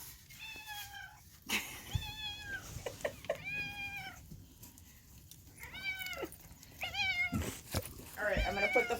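A house cat named Lulabelle meows repeatedly outdoors near a chicken area, a series of clear, fairly close calls spaced a second or so apart, with faint background voices and rustling between them.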